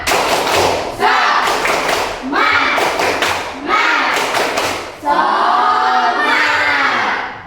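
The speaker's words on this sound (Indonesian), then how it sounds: "ayo kita ulangi tepuk semangatnya" A class of schoolchildren performs the rhythmic spirit clap, loud bursts of group clapping and thumping in repeated patterns, with the children shouting together between the beats.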